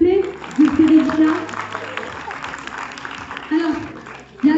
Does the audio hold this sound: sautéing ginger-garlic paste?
no